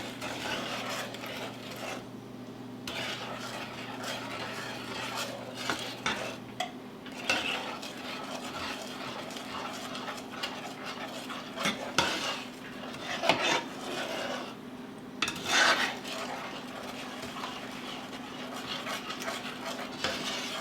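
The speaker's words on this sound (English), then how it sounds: "And I'm going to begin to stir until I get that all mixed in." A spoon stirs panna cotta mixture with plain gelatin in a pot on the stove for peanut butter cup panna cotta, giving a steady close scraping and swishing with occasional light clinks against the metal, no voices.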